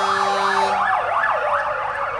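An ambulance van in a Pride march passes with its siren wailing loudly and continuously, the pitch rising and falling in a steady sweep, alone with no talk.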